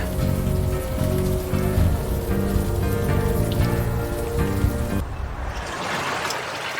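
Steady rain in a video game pours down with a constant dense hiss, the downpour continuing unbroken from start to finish at a fairly loud level.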